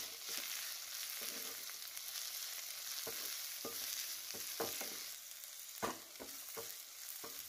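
Okra sautés with masala in a pan over a medium flame, a soft, steady frying hiss punctuated by irregular scraping taps from a spatula, fairly quiet and close with no speech.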